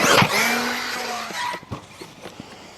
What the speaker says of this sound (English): You just hear that thing scraping the ramp when it comes into the ramp.